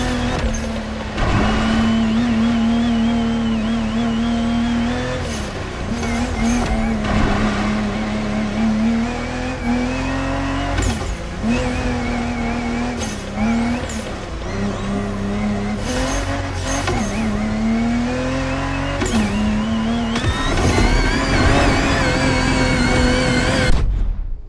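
A Land Rover Defender in The Crew Motorfest crosses rocky beach terrain, its engine droning steadily with rising and falling revs, punctuated by sharp knocks and jolts from the rough ground, loud and close throughout.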